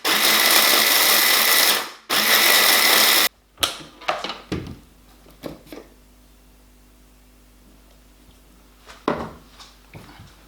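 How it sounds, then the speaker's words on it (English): A loud, steady blender whir for about three seconds, a brief pause, then more grinding as dried Dryad's Saddle mushroom flakes become powder, followed by scattered clinks and rattles of handling. "putting my Dryad Saddle flakes into the blender and blending it into a powder"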